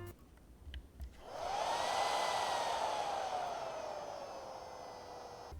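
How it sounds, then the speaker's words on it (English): A Godox AD100ProII flash strobe's cooling fan spins up after a couple of faint clicks, whirring like a small hair dryer with a rising then slowly falling whine, close and steady to the end. "The unit includes a cooling fan that activates when needed to prevent overheating."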